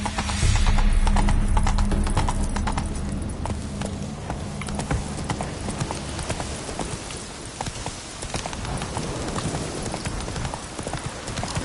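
Horse hooves galloping in the video game Witcher 3, a steady, close clip-clop rhythm over a low ambient hum, with no talking.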